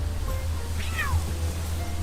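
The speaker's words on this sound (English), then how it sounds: "I hear a cat." A cat gives a single short meow partway through, faint against a low steady hum.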